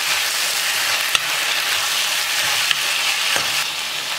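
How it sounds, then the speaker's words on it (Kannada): Onions and tomatoes frying in a pan for paneer gravy, an even close sizzle with a few sharp clicks of a spoon striking the pan. "ಈರುಳ್ಳಿ ಟೊಮೆಟೊ ಬೇಗ ಫ್ರೈ ಆಗುತ್ತೆ"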